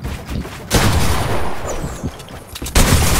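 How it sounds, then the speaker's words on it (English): Assault rifle fire in Fortnite, a burst of loud, close gunshots running continuously for most of the stretch with a brief pause and then renewed firing near the end. "I shoot the AR instead of the pump, mate."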